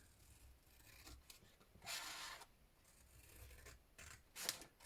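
Scissors cut paper for collage specimen tags, giving soft, quiet snipping and rustling strokes with a few louder crisp cuts near the middle and end, up close and without talk.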